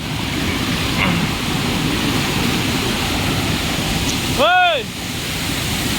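Rana Jilleda waterfall in the Araku valley roars as a steady, loud broadband rush throughout, with a brief whistle-like tonal sweep near the end.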